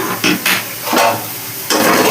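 Potatoes and neem leaves being stirred in a frying pan, with a few scraping strokes of a spatula against the pan over a soft sizzle, close and clear.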